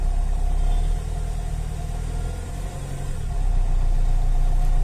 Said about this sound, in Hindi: गड्डी स्टार्ट हो गई